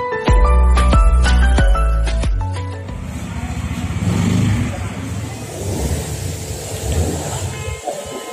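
A serviced Bajaj Pulsar N160 motorcycle engine revs loudly at close range during a test ride, with strong low harmonic pulses easing into a rougher, steady road drone and engine noise.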